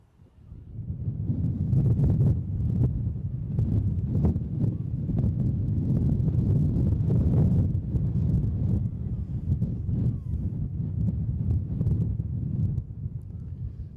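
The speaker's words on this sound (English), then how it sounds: "You really can't appreciate how windy it is if you're sitting at home in a nice warm place" Heavy wind buffets the microphone continuously at an outdoor women's rugby match, a loud low rumble with gusty surges and rustling, no voices.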